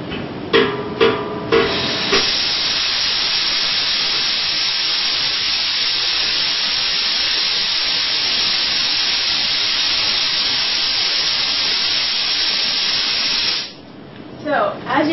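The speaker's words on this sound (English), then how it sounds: "And now I'm going to open the valve here." Compressed air rushing out of a tank through an opened valve: a few clicks and knocks as the valve turns, then a loud, steady broadband hiss lasting over ten seconds before it cuts off, followed by faint handling noise.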